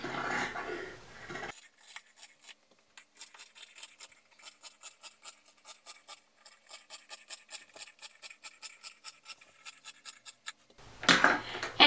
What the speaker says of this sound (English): Once those are connected, you want to go ahead and cut them out.